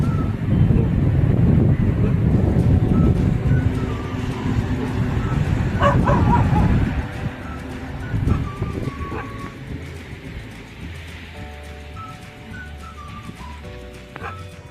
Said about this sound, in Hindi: ये भी अपने ग्रुप को बुला रहे हैं भौंक भौंक कर।